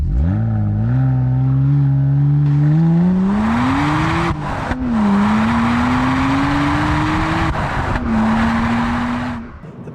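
A BMW 1M engine revs hard and climbs steadily in pitch as it accelerates, with brief dips at gear changes, loud and close throughout.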